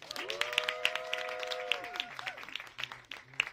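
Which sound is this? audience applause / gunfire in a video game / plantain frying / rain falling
audience applause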